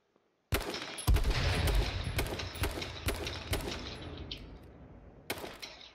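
Gunfire in the video game H1Z1: a burst of loud, sharp shots at irregular intervals with ringing tails, ending in one more crack after a pause.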